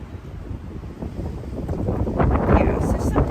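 Wind blows outdoors, buffeting the microphone as a low, steady rumble that swells toward the end, heard alongside a person talking.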